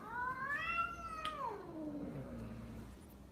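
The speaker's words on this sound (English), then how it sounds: "My cat. My cat." A pet cat gives one long drawn-out meow that rises and then slides down, close and fairly quiet, alone with no talk.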